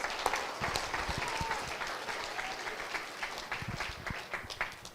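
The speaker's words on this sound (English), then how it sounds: "another round of applause for our 5th grade boys" A school audience applauds the 5th grade boys at a Gemara-learning celebration, a steady wash of many hands clapping for the full stretch, fairly close and even, with a few voices murmuring underneath.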